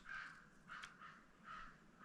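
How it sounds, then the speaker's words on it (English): Three faint, harsh crow caws spaced about evenly apart, heard from a distance outdoors with no talking. "can you hear the crows outside?"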